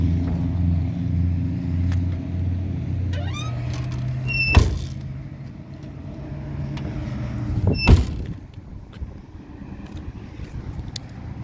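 A 1956 Chevy 210 trunk lid slams shut twice with sharp metallic thuds over low idling rumble, with faint squeaks in between.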